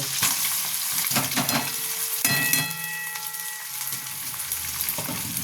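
Flattened rice with green chillies is stirred in a hot frying pan, a steady close sizzle with scraping strokes of a spatula and a brief clatter partway through.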